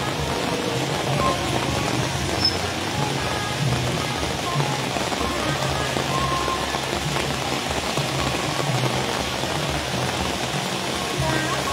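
Steady rain falls on surfaces outdoors during a street procession in Thailand, a dense, even hiss that continues without a break.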